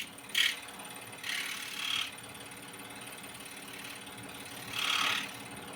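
A scroll saw trims lightly along the edge of a wooden King Neptune art piece, with three short buzzing cuts rising above the machine's steady running hum.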